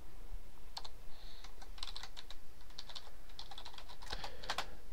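Typing on a computer keyboard: scattered, crisp key clicks in short irregular runs, close and clear with no talking over them.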